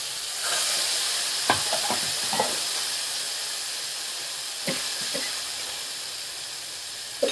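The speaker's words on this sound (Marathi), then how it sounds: "तेलामध्ये परतून घ्यायचं." Ground paste sizzling in hot oil with mustard seeds and hing, a steady frying hiss throughout with a few clinks and stirring scrapes, close and alone.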